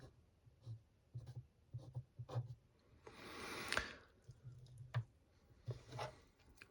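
A pen scratches across paper in short, quiet strokes with small taps between them, plus one longer scribbled stretch, very close and soft in an otherwise hushed setting.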